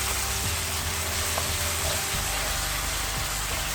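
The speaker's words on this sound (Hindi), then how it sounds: "और इसको अच्छी तरह से भुनें" Chopped tomatoes frying in masala with a spoonful of water for street-style dal mash, a steady dense sizzle close up with faint occasional stirring clinks.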